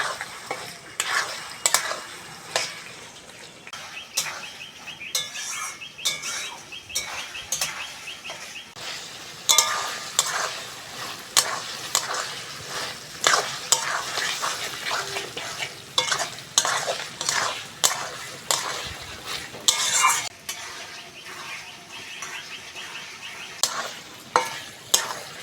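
Chicken for a pointed gourd (potol) chicken curry is stir-fried in a pan, with loud, repeated spatula scrapes and clatters over a steady sizzle and no talking.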